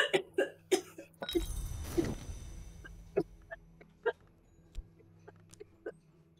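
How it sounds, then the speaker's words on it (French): A person gives a series of short, sharp coughs, starting with several in quick succession and then spaced out irregularly, close to the microphone in an otherwise quiet room. "excusez-nous, petite toux"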